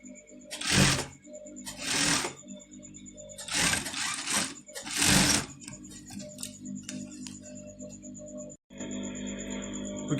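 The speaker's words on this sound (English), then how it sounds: "So you're sewing half inch down, then you're sewing half inch down." Sewing machine stitching a garment sleeve half an inch from the edge, running in four or five close, loud bursts of a few seconds each, separated by short pauses filled with a faint steady hum and light ticking.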